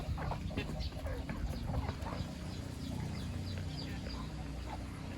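Chickens cluck and chatter continuously on a poultry farm alongside ducks during feeding, with a dense, steady flock murmur and scattered sharper calls and no talking.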